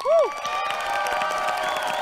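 Crowd at a Senbatsu Battle stage competition cheers and claps for a performer, a brief high whoop up front, then a steady wash of applause and shouting with music underneath.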